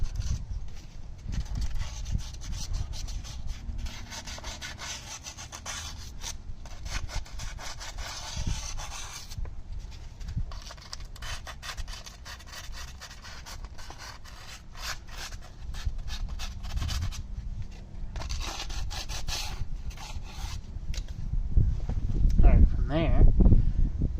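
A tool scrapes repeatedly across the hub mating surface of a 2019 Jeep Cherokee KL, rough rasping strokes in an irregular rhythm that continue steadily at close range, with some clunks toward the end.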